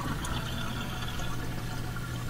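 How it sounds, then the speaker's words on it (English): A GE dishwasher's drain pump runs after a drain fault was cleared, a steady continuous rushing and gurgling of water being pumped out into a sink, close and constant with no talk. "immediately I can hear the drain fire up and the water moving"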